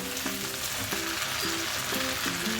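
Bitter gourd goes into a pan with pork, onion, tomato and garlic for sautéed ampalaya, a steady close frying hiss with a few clinks of a utensil against the pan over a low background hum.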